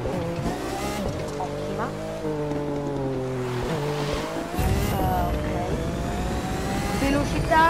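A car driven and cornered in the racing video game The Crew 2, with a steady engine drone rising and falling through turns, some tire squeal and a louder surge near the end, under a speaking voice.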